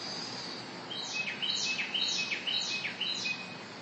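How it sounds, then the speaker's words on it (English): Carolina wrens calling in a garden in Ringwood, New Jersey, in October, a series of about five quick, rolling chirped phrases from close by over faint background hiss. "We're listening to Carolina wrens."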